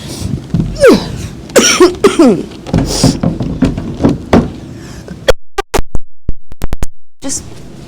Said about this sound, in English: I'm still coughing every 2 seconds.